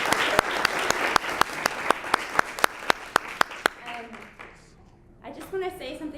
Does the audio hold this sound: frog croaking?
no